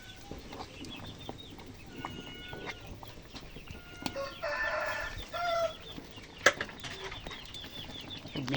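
Hens cluck and chatter intermittently over a busy farmyard background, with a brief louder burst of fowl calls midway.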